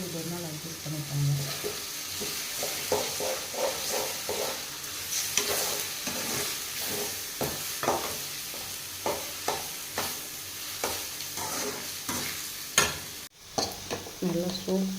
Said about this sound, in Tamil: சாம்பார் வந்து பொங்குது.